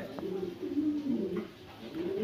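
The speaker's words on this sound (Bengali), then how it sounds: "ব্লুবার বিবেক বুদাপেস্ট কবুতর" Cooing from a blue bar Budapest high-flyer pigeon, a healthy ringed bird, as a low, continuous murmuring coo repeating through the moment, close by with some soft background noise.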